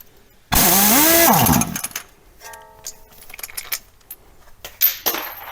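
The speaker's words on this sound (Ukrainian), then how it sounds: "Отак от все відкручено просто з одного разу." A Nissan Leaf suspension nut being loosened with a 19 mm socket on a power tool: one loud, close burst of about a second, followed by quieter metallic clinks and handling noises.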